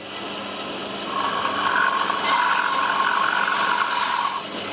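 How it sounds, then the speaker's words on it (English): A power sander smoothing the edge of a wooden wine rack cut on a bandsaw gives a steady, loud, close whirring grind that rises midway and cuts off near the end, with no voices. "the sander can just trim that nice and smooth as well"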